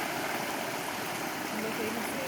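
Water pours steadily through the holes of an underflow dam in Colliers, West Virginia, making a constant, even rushing hiss with no breaks.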